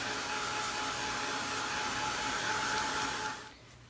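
A handheld heat dryer blows steadily on wet paint across an altered book page, a loud continuous whooshing hum that holds for over three seconds and then begins to wind down.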